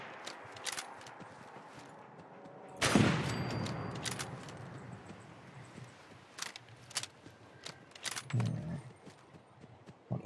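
Gunfire aimed at a turret in Fallout 4, a sharp burst of shots opening a dense, loud stretch of shooting, followed by scattered lighter cracks and a second heavy burst near the end.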